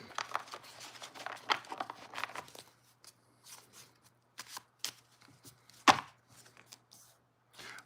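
Tarot cards being shuffled by hand at a close distance in a quiet room, a dense burst of riffling and clattering at first, then scattered soft slides and taps with one sharp snap.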